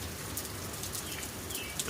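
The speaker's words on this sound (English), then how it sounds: "But it's raining" Steady rain pattering on a surface at night, a continuous even hiss with scattered droplet ticks, fairly close and moderately loud with no talking.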